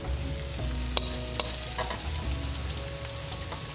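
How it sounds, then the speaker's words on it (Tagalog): Onion slices frying with garlic in a pan for chicken curry, a steady close sizzle with occasional stirring scrapes and small clinks. "Then next we will place the"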